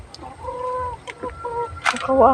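Several chickens cluck and squawk close by in short, overlapping calls, with one louder sharp cry near the end.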